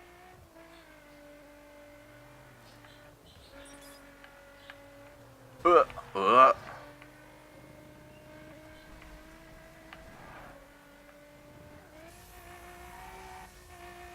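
Engine drone of a pink car driving in The Crew racing game, steady and mid-level throughout, with a short louder burst of tire or revving noise partway through and brief talk over it.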